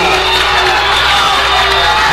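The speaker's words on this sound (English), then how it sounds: "Farmington crowd getting rude toward these referees." A Farmington basketball crowd at a Class 4 District 2 championship game shouts and yells at the referees, a dense, continuous roar of voices with no break.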